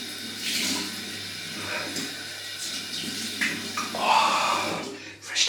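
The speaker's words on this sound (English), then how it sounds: "Cold water rinse, guys." Cold tap water runs into a sink for a rinse after a shave with a vintage Gillette Tech razor, a steady close splashing flow that shifts in pitch and intensity as hands move through the stream.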